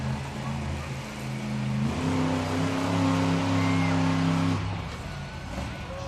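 The Triceratops monster truck's big engine roars loudly and steadily as it balances on its nose in an arena, the pitch stepping up and holding before dropping away, with crowd noise beneath.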